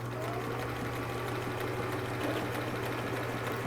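A sewing machine runs continuously while stitching a turban hem down the center of the presser foot, a steady close mechanical whir with a low motor hum throughout.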